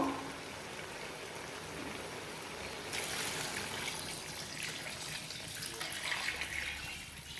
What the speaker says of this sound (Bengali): এখন আমি এটার মধ্যে পানি দিয়ে দিব, গরম পানি দিব।